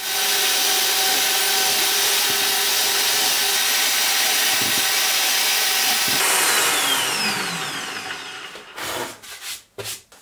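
A power drill whirs steadily through wood, loud and close, with a rising grinding pitch near the end before it stops and spins down in short bursts.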